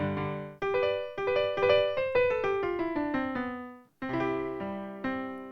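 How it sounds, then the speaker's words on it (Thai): The built-in piano voice of a Pastel Siamkey1 electronic keyboard, notes played one after another in a moderate melodic line, close and clear, with no talking. "อันนี้คือเสียงเปียโนในเครื่องนะครับ"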